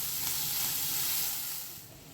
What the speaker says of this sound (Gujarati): હવે આપણે ડુંગળીને 1 થી 2 મિનિટ સુધી સરસ રીતે સાતળી લેશું.